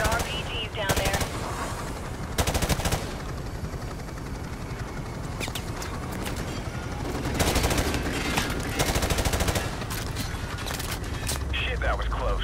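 Heavy automatic gunfire and shots crackle through a combat mission of the video game Call of Duty: Modern Warfare Remastered, sustained bursts over a constant rumbling backdrop, with radio voices talking in places.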